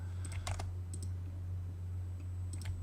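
Computer keyboard typing and mouse clicks entering AutoCAD commands: a few quiet, scattered bursts of clicks over a steady low electrical hum, with no talk.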